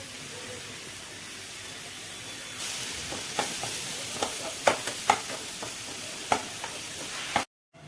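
Onions frying in a pan as chopped tomatoes go in, a steady sizzle that jumps louder partway through, overlaid with sharp stirring clicks and scrapes near the end before cutting off.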